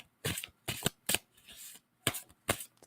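A deck of tarot cards is shuffled nearby in five sharp, papery bursts, two quick ones, a softer stretch, then two more after a gap.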